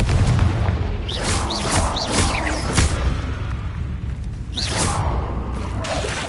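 Confringo fire spells blasting in Hogwarts Legacy make a sustained, loud rumble with several whooshing bursts layered over it. Another flurry of blasts follows near the end.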